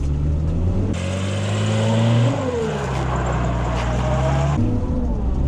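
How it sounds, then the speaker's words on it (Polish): A converted car drifting produces a loud, close engine revving under hard throttle, its pitch climbing and dipping as the throttle and steering change, continuous with no voices. "Dodaję gazu mocno i skręt kierownicą."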